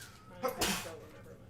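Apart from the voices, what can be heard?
sneeze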